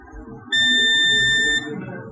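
A multimeter sounds a continuity beep while probing a shorted capacitor on a gaming laptop board: one steady, loud, high electronic tone lasting about a second, alone over low room noise.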